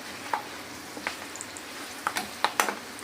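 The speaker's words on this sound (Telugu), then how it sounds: "పట్ పట్ పట్టమంటుంది కదా బాగా వేగాలి" Curry leaves crackle and pop in hot tempering oil for a raisin and amla pickle, scattered snaps growing denser toward the end over a steady sizzle.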